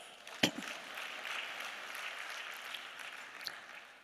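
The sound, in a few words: round of applause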